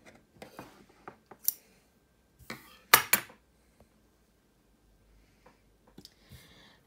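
Sewing scissors cut through cardigan fabric in a few short, crisp snips and clicks, scattered with pauses, close and fairly quiet.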